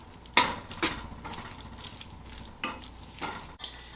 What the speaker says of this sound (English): Just give it a nice press, not too much, and just toss it one more time.